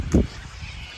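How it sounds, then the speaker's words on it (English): A single short honk from a big flock of geese in a local park rings out near the start, followed by faint background murmur. "There's a big flock of geese."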